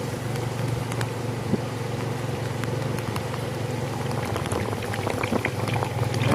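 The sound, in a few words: rain falling during a storm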